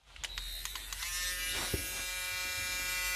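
A small drill bores a hole during an engine mount repair on an Audi A8, starting with a few taps and clicks before a steady, high, buzzing whine runs on, close and alone.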